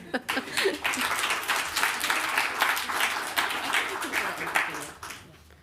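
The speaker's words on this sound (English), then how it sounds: "let's give Ellie a round of applause" Audience applause filling a keynote lecture hall, steady clapping from many hands held for several seconds before trailing off, with faint murmurs and a few chuckles underneath.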